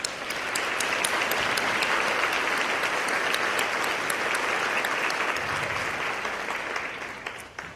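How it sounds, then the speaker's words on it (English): Steady round of applause from an audience at an employee of the year awards luncheon, dense, close and sustained for several seconds before tapering off at the end, with no talking over it. "Let's give them a round of applause."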